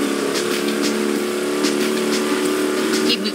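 A 1969 Camaro Z28 in The Crew Motorfest revs with a loud, close, sustained engine growl, broken by faint clicks and bursts of other in-game effects.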